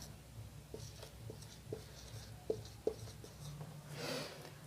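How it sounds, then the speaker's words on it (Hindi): Chalk or marker writing on a classroom board during a geography lesson, a series of short taps and strokes at a steady rhythm, with a louder scrape near the end and no talk. "इसको यहां लिख देते हैं"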